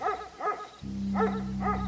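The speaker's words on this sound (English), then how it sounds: "Then his deep, loud bark started echoing through the woods" A dog gives a few deep barks, spaced evenly and fairly loud, while a steady low drone enters partway through.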